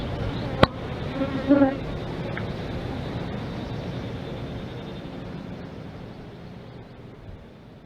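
Honeybees buzz around an opened, queenless hive, a continuous close swarm drone with wind-like rustle and a sharp tap near the start, fading gradually.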